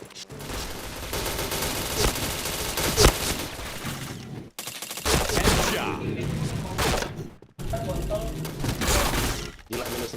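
Rapid bursts of gunfire from the shooter video game Point Blank, dense and loud across several segments with brief gaps between them, with a player's voice talking over the action.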